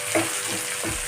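Chopped tomato pieces frying and sizzling in a pan of onion masala curry, a steady close sizzle with faint stirring movements underneath.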